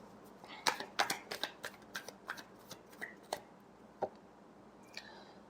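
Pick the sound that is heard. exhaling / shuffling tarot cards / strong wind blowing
shuffling tarot cards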